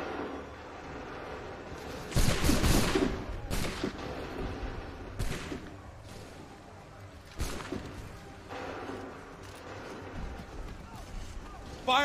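Volleys of musket fire ring out in an Assassin's Creed III battle: several loud, sharp bursts with ragged crackling tails, spaced a few seconds apart over a steady background din, with shouted orders in between.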